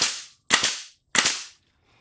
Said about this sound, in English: let's try the brad nailer in the continuous mode